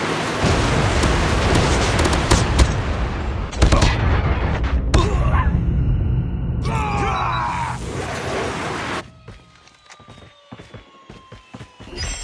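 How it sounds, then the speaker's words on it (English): A Call of Duty Mobile Drop Zone battle soundscape of sharp blasts and booming impacts, with electronic crackles and a sudden loud called-in lightning strike before things quiet to faint rumbling. "We've called in a lightning strike."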